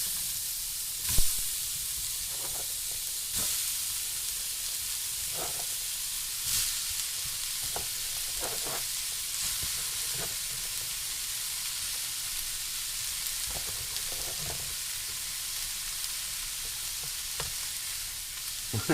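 Cajun turkey pasta ingredients sizzling steadily in a hot pan on a stovetop turned down to medium, with a continuous bright hiss and occasional clinks and stirring knocks, close and loud throughout.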